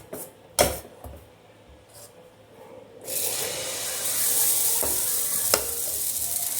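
Dosa batter hits a hot pan and sizzles, the hiss swelling in after a few quiet seconds with a couple of light clinks and continuing steadily up close.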